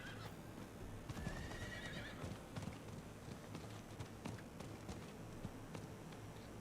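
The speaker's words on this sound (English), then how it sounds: "Let me get on my horse." Horse in a Final Fantasy video game neighing with a shrill whinny early on, followed by steady galloping hoofbeats that clip-clop rhythmically at a moderate distance, with no voices.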